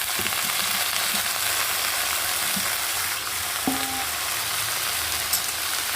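Chopped tomato and pumpkin frying in hot tempering oil, a steady close sizzle with faint stirring clatter throughout, no talking.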